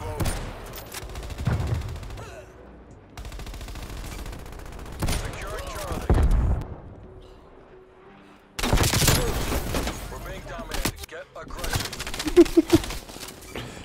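Swiss K31 sniper rifle shots in an online Call of Duty: Cold War match, with sharp single cracks spaced apart over game ambience and bursts of other gunfire, while someone talks throughout.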